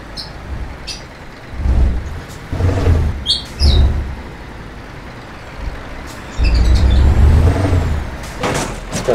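Birds chirp in Euro Truck Simulator 2 gameplay, brief high tweets scattered among a truck's engine rumble and loud hissing air-brake bursts.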